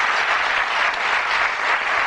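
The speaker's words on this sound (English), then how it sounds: "A nice warm round of applause." Studio audience on the 1982 Bullseye game show gives a sustained, even round of applause, dense and steady throughout with no talk over it.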